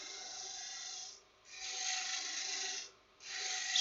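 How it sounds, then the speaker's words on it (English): A spindle roughing gouge cuts a wooden mallet blank spinning on a lathe, giving a loud, steady rasping hiss in three long passes separated by two brief pauses. "roll the spindle roughing gouge right over"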